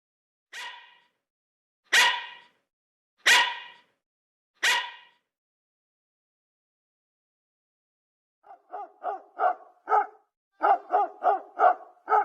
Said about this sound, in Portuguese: Os dois sons do mesmo animal, cachorro.